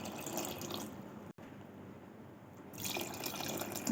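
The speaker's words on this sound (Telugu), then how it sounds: "2 గ్లాస్ యాడ్ చేస్తున్నా వాటర్." Water is poured into a pot of dough-like batter for aseeda, an Arabian dish, giving a steady, fairly quiet rush and splash that briefly cuts out and then swells louder toward the end.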